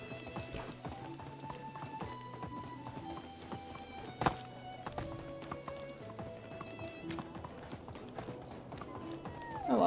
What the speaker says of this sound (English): I love having the horse.